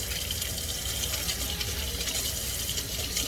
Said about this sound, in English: I can't see and I'm frying fish.